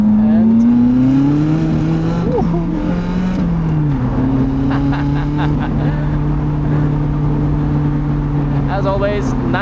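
A Lotus Elise sports car drives a damp, winding Swiss road with a steady, close engine drone from inside the cabin, its pitch shifting with braking and gear changes, while someone talks over it throughout.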